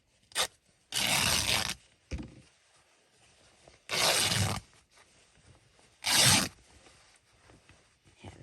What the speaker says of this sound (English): that did not give me a good rip, so I'm going to come in further.